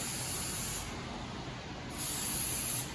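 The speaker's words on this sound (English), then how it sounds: "my first use of the silicone spray" Can of silicone spray sprayed onto a window pivot shoe during a thermal pane replacement, two close steady hissing bursts separated by a brief pause, no speech.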